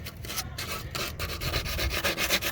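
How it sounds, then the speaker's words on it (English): A motor shaft is sanded with a piece of sandpaper during an air compressor pump replacement, a close, continuous rhythmic rasp of quick back-and-forth strokes with no talking. "I went and got me a piece of sandpaper, sand this shaft a little bit"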